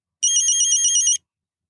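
A mobile phone ringtone for an incoming call chimes in a steady, bright electronic pattern for about a second, loud and close, then cuts off into silence.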